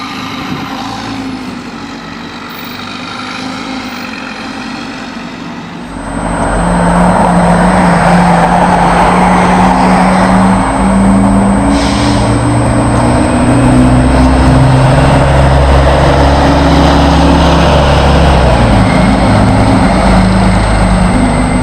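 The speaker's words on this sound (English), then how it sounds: "Here are a few examples of how loud these Orion 7 CNGs really are." Orion 7 CNG transit bus with a Series 50G engine, a quieter distant drone first, then a loud close roar as the engine revs hard and holds high.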